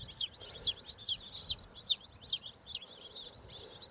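Copper Maran chicks in a brooder give a steady series of high, rapid peeping chirps, about two per second, close by and fairly loud over a low background hum.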